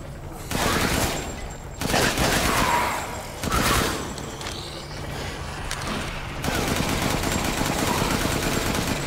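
Gunfire in the video game Resident Evil Village: several loud bursts of rapid shots separated by short gaps, then a steadier stretch of continuous firing toward the end.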